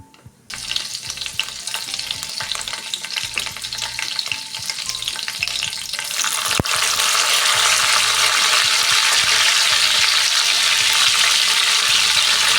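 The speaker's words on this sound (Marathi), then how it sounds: "आता जिरा मोहरी बऱ्यापैकी गरम झालेली आहे आता त्यात आपण लसूण आणि कढीपत्ता टाकणार आहे" Garlic and curry leaves go into hot oil with cumin and mustard seeds for a Kolhapuri whole masoor dish. A faint start gives way to a steady, loud, close sizzle and crackle, with a brief sharp click around 6.6 seconds.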